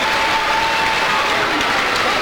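A packed crowd at a high school basketball game, with cheerleaders clapping courtside, produces loud continuous applause and cheering that fills the whole stretch without a break.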